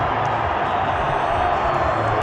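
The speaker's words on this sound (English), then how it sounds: "The crowd erupts at the Harare Sports Club." Dense, steady roar of a large stadium crowd cheering after a home win in a T20 cricket match at Harare Sports Club, a continuous loud wash of voices with no pauses.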